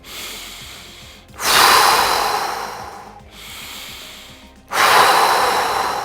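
Deep breathing during a stress-relief exercise: two long, loud breath cycles, each a gentle rise followed by a strong rush of air, close up and alone.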